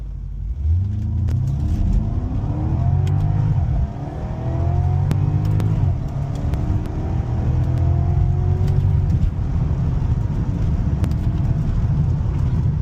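Porsche Panamera fitted with a RaceChip tune accelerating hard in Sport Plus mode, heard from inside the cabin: a deep engine drone rising in pitch through repeated gear pulls, with brief dips between shifts.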